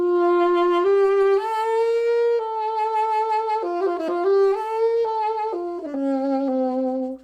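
A solo saxophone plays a smooth, lyrical 1940s-style jazz melody with slurred notes and gentle scoops, close and clear with nothing else behind it.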